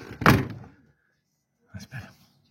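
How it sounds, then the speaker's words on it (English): The door of an Elddis Avante 454 caravan is pulled shut with one loud, close thunk, followed after a pause by a couple of softer knocks. "I'm just going to shut the door because the sunlight is so bright."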